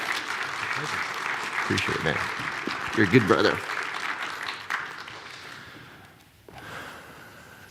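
A crowd applauds for a speaker, moderately loud clapping under a man's brief spoken thanks, fading toward the end before a softer patch resumes.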